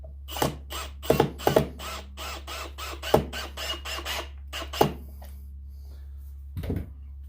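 A ratchet tightens screws on a trophy buck mounting kit, giving quiet bursts of sharp clicking separated by short pauses, with a low steady hum underneath.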